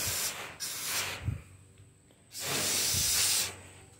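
Insecticide sprayed from a can into the openings of a bald-faced hornet nest: two long, loud hissing bursts with a pause between them, close by.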